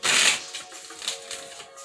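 Tarot cards being shuffled in a quick riffling burst, loudest at the start and then trailing into softer flicks and taps, close up with no talking.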